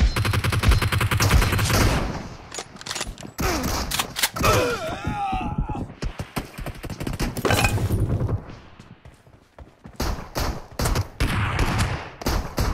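Dense bursts of automatic gunfire from the PUBG video game, with fast overlapping rattling volleys, short pauses and renewed firing, loud and sustained throughout.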